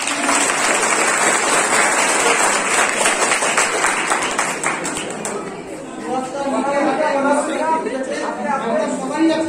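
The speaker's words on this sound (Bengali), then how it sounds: "সবাই একটা আমাদের সুবাদার জন্য হাততালি দিবে" Audience at a college Bengali department Students' Week celebration claps loudly and steadily for an organiser, dense applause filling the room with some chatter and voices mixed in as it thins toward the end.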